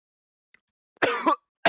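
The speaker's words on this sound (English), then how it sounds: "It's like I'm coughing every second" Two short, harsh coughs close by, the first longer and the second cut off at the end, with silence around them.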